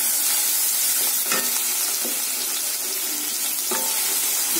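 Ridge gourd peel chutney being stirred in a pan, a soft continuous sizzle with scattered scraping clinks of the spoon against the pan, close and alone with no talking.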